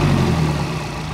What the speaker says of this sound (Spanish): Ahí está, con el escape de carrera.